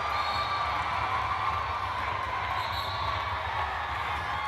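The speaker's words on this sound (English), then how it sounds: "Don't forget, the louder you cheer," Roller derby spectators in a venue produce a steady, distant crowd roar with cheering, continuous and even throughout.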